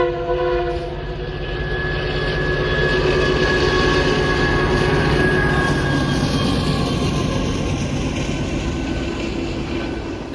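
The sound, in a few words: freight train led by EMD GP20C locomotive passing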